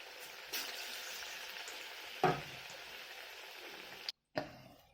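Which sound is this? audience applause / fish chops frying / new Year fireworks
fish chops frying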